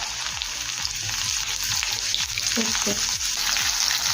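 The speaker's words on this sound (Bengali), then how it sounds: "গরম তেলের মধ্যে দেবো প্রথমে রসুন কোচানো দেবো কাঁচা লঙ্কা" Chopped garlic and green chillies dropped into hot oil for chilli cauliflower give a loud, continuous frying hiss and crackle close by, with a faint low hum underneath.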